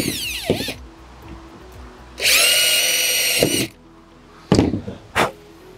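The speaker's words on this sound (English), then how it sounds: "I'm going to put two more screws in." Power driver whines in bursts as steel screws are driven into pre-drilled holes in an aluminum handrail post, one long steady run and shorter spurts with thunks between, close and loud.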